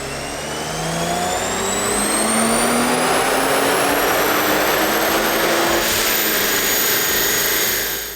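Stock manual Nissan Z engine revving hard on a chassis dyno during a baseline power run, a loud sustained rising drone climbing steadily in pitch for several seconds, with no talk over it.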